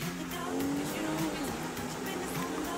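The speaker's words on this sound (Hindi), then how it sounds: "बस इसको हमने भगाते हैं फरारी को यहाँ से।" Engine of a Ferrari sports car in a video game, roaring steadily at speed with faint tire noise throughout, with someone talking over it.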